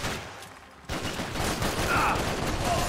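Gunfire in the Max Payne 3 video game, a dense rattle of shots that starts suddenly after a quiet moment and keeps going loud and continuous, with some speech mixed in.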